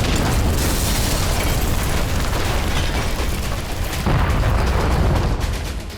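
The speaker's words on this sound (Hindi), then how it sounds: "सूमी में ताबड़तोड़ गोलाबारी हो रही है।" Continuous heavy rumbling and booming from artillery shelling in the Russia-Ukraine war around Sumy, a dense, loud wash of blasts with no clear gaps between impacts.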